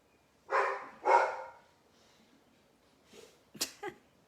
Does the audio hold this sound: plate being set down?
no